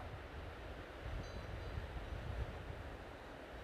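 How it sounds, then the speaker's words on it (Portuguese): Wind blows steadily past the microphone outdoors, a low broadband rumble with gentle gusts that rise and fall without pause. "Está a levantar um pouco de vento agora, realmente."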